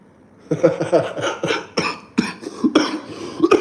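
Repeated coughing fits from someone laughing hard, a run of sharp, close bursts over a few seconds with no talk.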